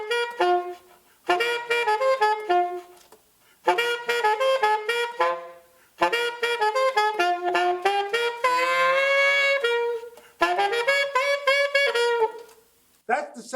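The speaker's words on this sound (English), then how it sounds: "Okay, so the alto sax sounds like this." Alto saxophone playing a solo melodic line, smooth sustained notes with some runs and brief pauses between phrases, close and clear.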